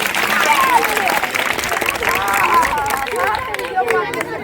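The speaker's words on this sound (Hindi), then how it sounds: "ताली बजाओ जोर से" Loud sustained applause from a crowd at a college Teachers Day event, dense clapping mixed with cheering and murmured voices, gradually thinning toward the end.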